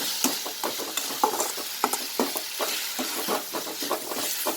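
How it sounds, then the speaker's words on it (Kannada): Tomato fries with baby capsicum and brinjal for a bhaji, a close, lively sizzle broken by rhythmic spatula scrapes and knocks against the pan, steady and unaccompanied by speech. "ಈ ಟೊಮಾಟೊ ಸ್ವಲ್ಪ ಫ್ರೈ ಆಗಲಿ, ಮೆತ್ತಗಾಗಲಿ"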